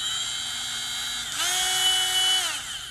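Cordless Tack Life two-speed rotary tool running with a steady high-pitched whine that steps up to a faster, louder speed partway through, then begins winding down, close and alone.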